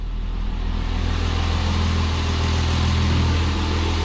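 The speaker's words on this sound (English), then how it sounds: "Alright, so I've let the car warm up. The idle's dropped down to 800 RPM." A budget police patrol car with low oil pressure idles steadily at about 800 RPM after warming up, a low, even engine rumble close by with no talking.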